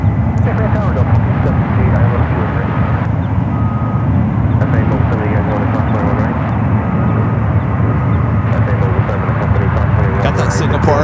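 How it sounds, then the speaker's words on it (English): A Boeing 777-200ER takes off from runway 28 Left at San Francisco airport, its jet engines a loud, steady broadband roar that holds throughout, with a commentator talking over it. "this flight heading to Osaka, Japan, in a 777 at 200 ER"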